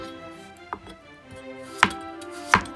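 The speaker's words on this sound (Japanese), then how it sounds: "千切りにしていきます。" A kitchen knife julienning peeled potatoes on a cutting board, giving three separate, crisp chops spaced about a second apart against a quiet room.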